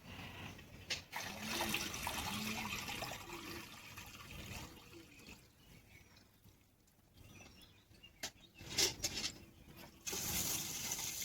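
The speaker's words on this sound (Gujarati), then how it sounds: "અહીંયા દાળ ધોવી પડે" Water sloshes and splashes in a container as lentils are rinsed by hand, with pouring bursts and a few clatters, fairly close.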